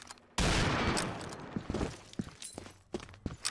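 Rapid bursts of gunfire in Combat Arms, a loud opening volley followed by scattered shots and footsteps.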